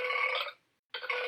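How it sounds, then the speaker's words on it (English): Loud, close burping sound effect split into two long raspy belches separated by a short silent gap. "Bifurcated burps."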